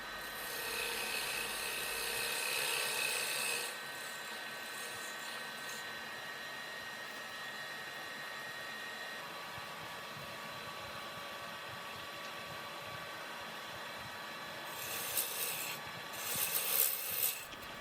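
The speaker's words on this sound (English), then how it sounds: "Here I'm just forming the tenon for the chuck to grab onto once we turn the bowl" A woodturning lathe shapes a tenon on the base of a wooden bowl, giving a steady scraping, rasping hiss of the tool on spinning wood that holds even throughout and grows louder with brighter rubbing bursts near the end.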